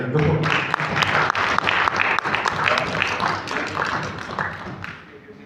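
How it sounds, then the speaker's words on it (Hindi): An audience at a sales training seminar claps loudly. The applause is dense and sustained, with sharp individual claps standing out, and it fades toward the end. "आपके लिए ताली होनी चाहिए यार।"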